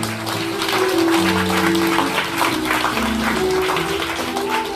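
Wedding guests applaud as the groom's mother lights a candle at the ceremony, a steady wash of clapping over sustained background music.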